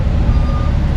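Reversing beeps from a Bell B30E 30-ton dump truck, a steady near, loud warning tone over the low rumble of the idling engine, with no talking.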